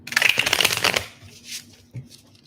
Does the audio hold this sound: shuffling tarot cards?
yes